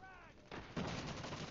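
Gunfire during a team deathmatch in a video game: a dense, booming burst of shots that grows louder midway and continues to the end.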